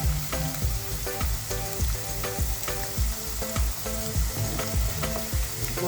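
Avarakkai broad bean pakoda frying in hot oil as pieces are gently flipped, a steady crackling sizzle with scattered sharp pops and occasional soft utensil knocks, close and continuous with no talking.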